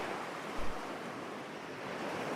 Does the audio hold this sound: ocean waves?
yes